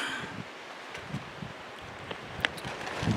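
Wind blowing outdoors at a campsite, a faint steady breezy hiss with soft rustling and occasional light gusts and small knocks, no talking.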